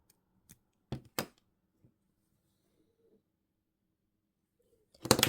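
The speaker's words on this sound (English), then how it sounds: "So I'm going to cut this wire." Wire cutters snip jewellery wire for an earring in a quiet room: a few crisp, close clicks early on, a faint tap later, and a louder burst of handling at the end.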